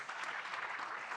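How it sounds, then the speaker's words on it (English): Audience at a tech innovation gathering applauds its panelists, a steady wash of many hands clapping throughout the short burst, moderately loud and unbroken with no speech. "I want to thank our panelists. Please, can we give them a round of applause?"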